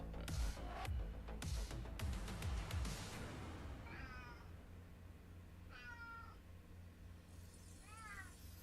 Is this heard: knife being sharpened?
no